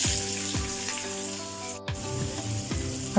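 Onion fries with spices in oil in a pan for a street-style daal mash, a soft continuous sizzle with a few spaced stirring thumps, close and moderately quiet, with no one speaking.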